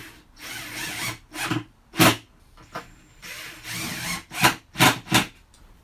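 Power drill boring pilot holes into a wooden desk panel, in several short bursts of whirring that start and stop irregularly, fairly close and loud with brief pauses between, no talking.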